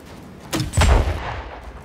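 A single heavy weapon blast in the Star Citizen video game, a sharp crack followed by a booming low rumble that fades over about a second.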